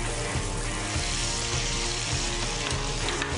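Halved morel mushrooms sizzle in hot olive oil in a pan with a dense, continuous crackle and spatter, close and fairly loud, with faint low thumps and no voices.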